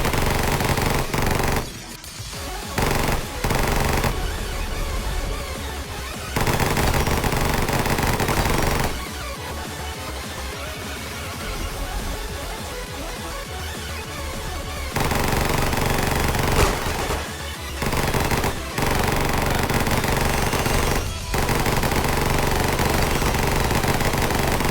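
Sustained, dense gunfire from a pay-to-win gun in the Roblox game Weird Gun Game, loud and nearly continuous with brief gaps, rattling like a machine gun throughout.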